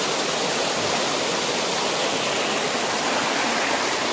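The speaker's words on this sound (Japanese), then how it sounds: "でこれが下行ってね、滝になってる" Tsukubane Falls in Kato City pours in a steady, dense roar of falling water, loud and close, with no voices over it.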